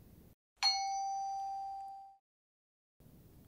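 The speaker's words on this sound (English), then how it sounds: "when the bell rings, the lesson will begin" A single bright bell ding marking the start of a lesson, struck once cleanly in silence and ringing out with a long, smoothly fading metallic tone.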